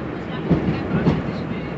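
Onboard rumble of GWR train 802106 running from Paddington to Slough, a continuous low roar with faint rhythmic clicks from the wheels over the track.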